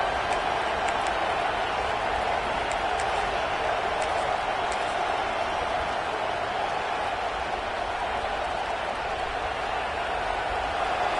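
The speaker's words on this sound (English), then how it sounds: "It's early, but this crowd is fired up. Listen to this noise here." A fired-up football stadium crowd roars continuously early in a game, a dense, steady wash of cheering heard from a distance without distinct peaks.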